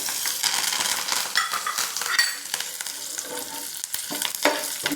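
Garlic and curry leaves frying with ginger in hot oil in a pan for an egg curry, giving a loud, close, continuous crackling sizzle with stirring scrapes throughout.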